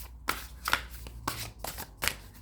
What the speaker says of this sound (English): let's see if we can just mix them up a bit because we want to mix them up as best we could